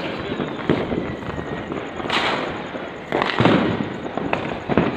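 Diwali fireworks and firecrackers in Siwan, Bihar, go off in repeated loud bursts and crackles over a constant hissing background, with sharp peaks spread irregularly throughout.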